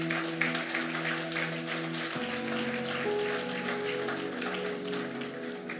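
Congregation applause during a Catholic preaching event, a broad, even patter of clapping heard over sustained organ or keyboard chords that shift partway through.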